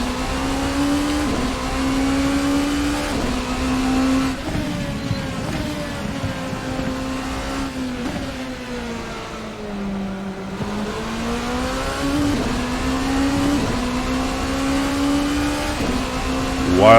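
The engine of a Rebellion R13 LMP race car in Assetto Corsa, a constant, close onboard engine tone that climbs and falls with upshifts and braking, dipping to a low drone mid-lap before building again.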